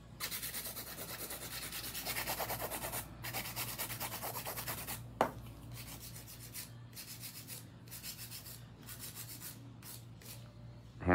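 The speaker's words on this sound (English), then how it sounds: "Hand filing just up down motion" Acrylic nails are hand-filed with quick up-and-down strokes, a close, soft scratchy rubbing in rapid bursts with short pauses between them, no voices.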